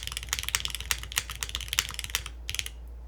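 Typing on a Neo98 mechanical keyboard with soft PORON gaskets, a quick irregular run of muted, close-up keystrokes with no talking.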